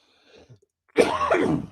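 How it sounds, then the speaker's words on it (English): A single harsh, close cough from a lingering weeks-long cough bursts out after a brief faint throaty sound, loud and raspy with a rough, chesty tone. "that lingering cough that just sits there for weeks and weeks"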